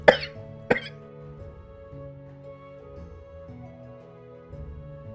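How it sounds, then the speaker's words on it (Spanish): Two sharp coughs in quick succession at the start, then quiet background music continues. "si me permitís, voy a toser"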